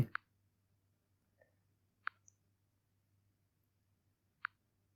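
A few sharp, isolated clicks spaced a second or two apart in a quiet room, faint and crisp, as a mobile phone app lock is set.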